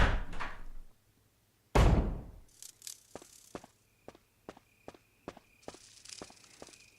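Inside the Resident Evil HD Remaster mansion, two heavy doors boom shut in quick succession, then evenly spaced footsteps tap along a hard floor, sharp and close, with a faint ambient hum beneath.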